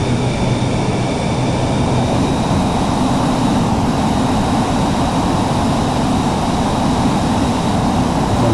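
A jet in a flight simulator game sweeps past over Sydney Harbour with a steady, loud roaring rush and faint whining tones, continuous throughout with no talk.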